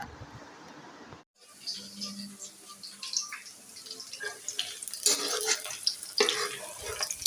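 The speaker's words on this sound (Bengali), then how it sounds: "রান্না চলাই দিলাম পেঁয়াজ ভেজে নিচ্ছে" Onions frying in a pan in a home kitchen, a quiet sizzle with scattered clinks and stirring noises, the sizzling swelling louder for a couple of seconds near the end.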